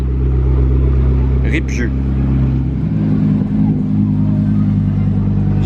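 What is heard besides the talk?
Lamborghini supercars driving past in Monaco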